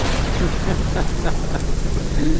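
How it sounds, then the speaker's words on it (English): Artificial rain and thunder sound effects: a steady rain-like hiss with a low rumbling roar underneath, continuous and fairly loud throughout, with faint voice-like sounds mixed in. "Fake rain. How about some lightning?"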